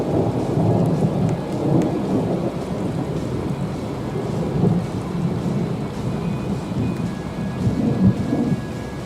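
Heavy rain drums on and on through a thunderstorm in France while thunder rumbles low, and wind buffets the microphone.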